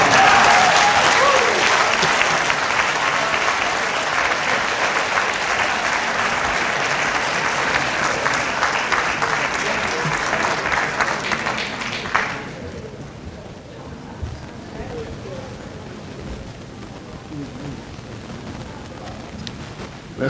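Loud, dense applause from an audience after a speech at a public address, steady for about twelve seconds before dropping to a softer, thinning patter of scattered claps and murmur.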